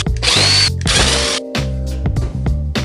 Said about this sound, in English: Remove the top 4 screws.